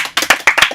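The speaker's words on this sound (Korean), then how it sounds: "여러분 박수 한번 쳐볼까요?" A few people clap together after a request for applause, giving about five quick, close, uneven bursts of handclaps over less than a second with no talking.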